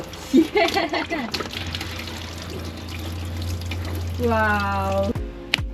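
On a sailboat, water starts running from a tap as the newly replaced fresh water pump is switched on, with a steady pour and hum under people talking, and a rising filling tone near the end.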